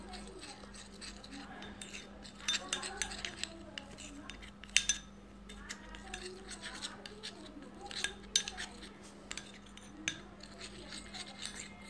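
A spoon stirs a sticky face-pack paste with a little water in a bowl, giving soft, irregular clinks and scrapes against the bowl. The sound is close but quiet.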